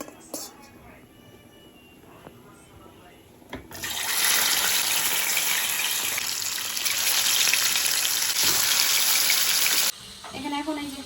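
Fish goes into a hot wok and a loud, steady sizzling hiss starts abruptly, holding for about six seconds before cutting off. Quieter kitchen sounds and soft voices come before it.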